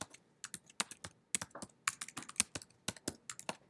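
Someone types a small C program on a computer keyboard, producing quick, close, crisp key clicks in irregular bursts with short pauses between, with no talking.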